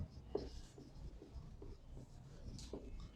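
Writing strokes on a classroom board during an English grammar lesson: a steady series of short, soft scratching taps, fairly close and quiet, with no talking.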